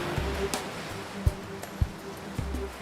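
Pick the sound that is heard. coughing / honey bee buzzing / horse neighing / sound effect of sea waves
sound effect of sea waves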